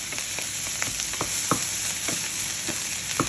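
Fried rice with kimchi powder sizzling in a pan while being stirred, a steady frying hiss broken by repeated soft scraping strokes at an even pace.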